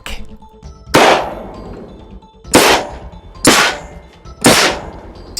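A homemade burst cannon fires burst discs in four sharp, loud bangs, each with a brief metallic ring. The bangs come at uneven gaps of about one second, close by and with no talking.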